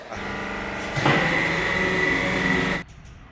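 A fully automatic hollow block making machine, sold used, runs with a loud, steady mechanical drone and whine that grows stronger about a second in. The noise holds close and constant, then cuts off abruptly near the end.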